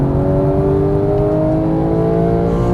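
A Porsche 911 GT3 of the 991 generation accelerating on a track, its engine a loud, close, rising mechanical drone with layered harmonic tones climbing steadily in pitch.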